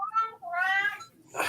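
A pet cat meows indoors, one drawn-out wavering meow followed by a longer rising call, close and clear against a quiet background, with a brief breathy noise at the end.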